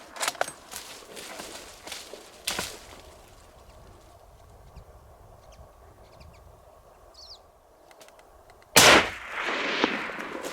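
A rifle fires during an Alaskan moose hunt: a few sharp cracks early, then one loud close shot near the end with a ringing tail, in an otherwise quiet outdoor setting.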